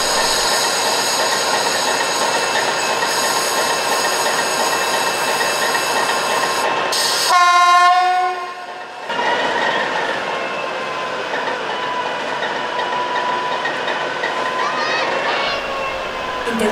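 A GDR-era locomotive, freshly repainted in East German livery, rumbles steadily at a railway festival at the Nossen engine depot. A loud horn blast sounds about halfway through, and a voice talks over the running noise.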